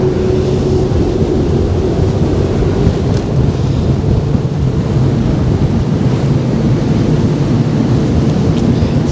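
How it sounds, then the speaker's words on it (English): Strong wind buffets the microphone at Wineglass Bay in Freycinet National Park, a loud, steady roar with surf-like rumble throughout and no voices. "Sorry about the wind, guys, it's quite windy."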